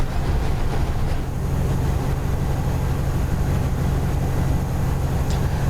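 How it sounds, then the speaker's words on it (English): In the video game Train Planet, a train engine labours uphill with a steady low rumble and a continuous droning roar, heard close and alone, with no voices over it. "You can hear the engine labouring."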